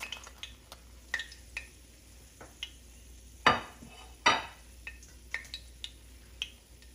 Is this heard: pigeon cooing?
no